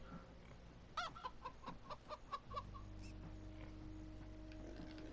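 A chicken in the video game Minecraft Story Mode clucks in a quick run of short, evenly spaced notes over a low, constant background hum, fairly faint and alone without any talk.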